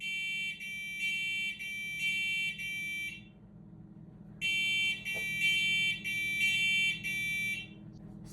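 A First Alert smoke alarm sounds during testing, a piercing electronic beep repeating in a steady pulsed rhythm, pausing briefly before resuming in another run of loud, even beeps close by.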